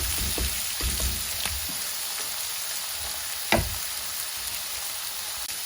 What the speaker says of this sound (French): j'ai mis les oignons à colorer avec le restant d'huile d'olive pendant quelques minutes en les remuant